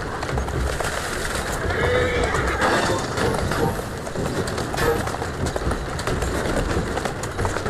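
A horse neighs and whinnies with clip-clopping hooves in Assassin's Creed Syndicate, set against a steady, busy game ambience of mid-level noise throughout.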